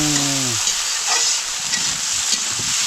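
Cabbage sautéing in a pan gives a loud, steady sizzle and hiss of frying with stirring, after a brief opening tone.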